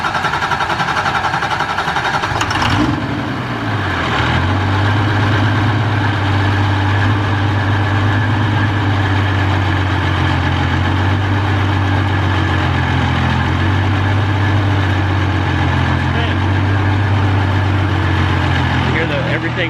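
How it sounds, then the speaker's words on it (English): A pro diesel pulling tractor engine idles with a deep, steady low rumble that holds loud and close throughout after a brief rev near the start, with people talking over it. "You hear everything running inside that engine sound."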